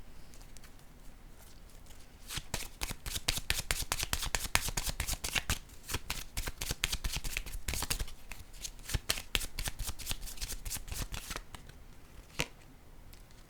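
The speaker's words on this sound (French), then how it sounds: "Je vais déposer une autre carte ici." Tarot cards are shuffled in long, rapid riffling bursts with a crisp papery flutter, close and continuous, briefly pausing before more shuffling and a card being laid down.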